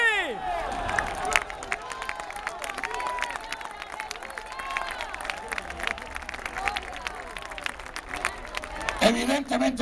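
A crowd in an outdoor city plaza claps and cheers through a public speech, the scattered, crackling applause rising and falling at mid distance amid chatter and voices for about ten seconds.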